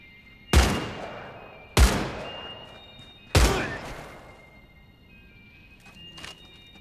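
Three sharp, heavy rifle shots from the semi-automatic Gewehr in Medal of Honor, each ringing out with a long decaying echo, spaced about a second apart, then near-silence with faint clatter.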